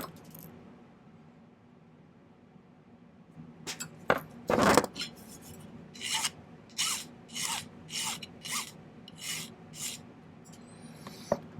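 Flattened 10 gauge silver wire being snipped: one sharp loud cut near the middle, then a run of about eight rhythmic rasping strokes, close and clear with no talking.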